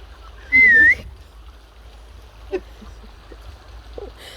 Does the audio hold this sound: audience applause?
no